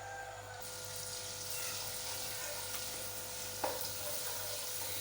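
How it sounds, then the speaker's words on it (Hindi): Chopped garlic fries in a pan with the flame turned off after gravy for Patiala chicken, giving a soft, steady sizzle throughout with one small clink partway, and no talking. "चॉप किया हुआ लहसुन, इसे 1 मिनट तक भूनेंगे।"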